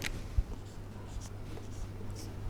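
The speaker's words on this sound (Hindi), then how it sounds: "सो फर्स्ट मैं यहाँ पे लिखती हूँ आंसर में" A pen writes a math answer by hand on paper, making faint, soft scratching strokes in a quiet room, with one small tap near the start.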